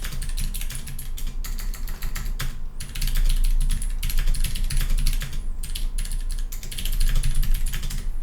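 Rapid, continuous clacking of a mechanical keyboard fitted with clicky Kailh Gold speed switches, typed on up close, with the keystrokes growing louder and denser after the first few seconds.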